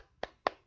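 Students in an Indonesian vocational school classroom perform the Tepuk PPK clap chant, two sharp, crisp claps evenly spaced about a quarter second apart, close and clear with near silence between them.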